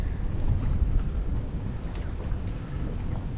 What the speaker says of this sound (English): It's pretty windy out right now,